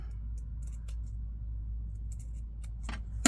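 Scissors snip through a fabric junk-journal card with lace, a few quick crisp cuts and small clicks over a steady low room hum, faint and close, with a slightly louder snip at the end.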